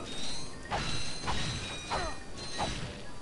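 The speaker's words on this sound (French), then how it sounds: "on balance bien les bombes histoire de bien tous les tuer" Several bombs thrown at enemies in the Ratchet & Clank video game go off one after another, four bursts spaced about half a second to a second apart over a steady bed of game music and ambience.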